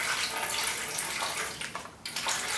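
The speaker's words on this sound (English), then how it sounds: "And then we just pour the water into the" Water pours steadily in a broad, continuous rush, splashing into a bucket, with a brief dip near the end before the flow resumes.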